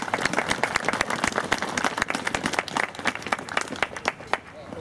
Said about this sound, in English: And I just ask everybody to join me in a round of applause for all of their hard work.